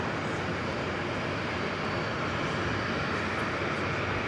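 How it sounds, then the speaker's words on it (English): A Nippon Cargo Boeing 747-8 taxies along runway 22 right at JFK Airport, its engines producing a steady, dense roar that holds level throughout without break. "The Nippon Cargo Queen 747-8 aircraft using runway 22 right as a taxiway"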